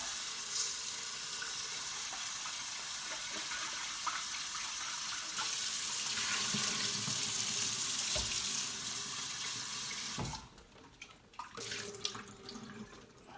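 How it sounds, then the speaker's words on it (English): Water from a tap runs steadily as an Enagic Kangen deep cleaning kit is rinsed under it, a loud close splashing flow for about ten seconds. Then it cuts off, leaving scattered drips and small clatters. "Let me rinse it."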